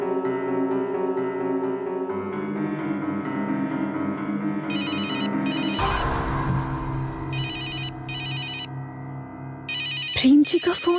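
A mobile phone ringtone sounds in a repeating melodic pattern, loud and close, while background music plays and people talk.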